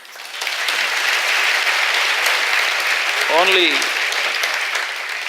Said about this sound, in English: you shouldn't clap for yourself like that